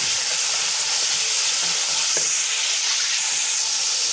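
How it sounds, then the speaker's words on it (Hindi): Meat frying with onions in a pot for aloo gosht, giving a steady, close, loud sizzle that continues unbroken and alone with no voices. "गोश्त को हम अच्छी तरह से भून लेंगे।"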